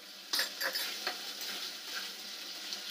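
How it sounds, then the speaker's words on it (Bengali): Mutton masala for a potato and goat-meat curry fries in a pan, with a soft steady sizzle broken by a few scraping stirs of a spatula early on, close up and without speech. "ভালো করে নেড়ে দিব, একটু ভালো করে নাড়াড়ি করে নিলাম"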